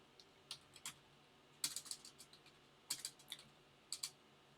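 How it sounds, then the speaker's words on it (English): Computer keyboard typing close by, in short bursts of quick key clicks separated by brief pauses, with no talking. "Geez, Jared, type."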